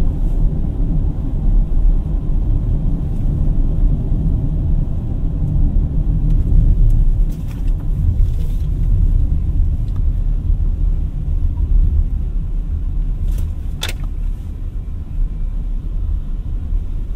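A BMW iX3 electric SUV accelerating on a straight road, heard from inside as a loud, steady low rumble of road and tyre noise with faint whine, no talk.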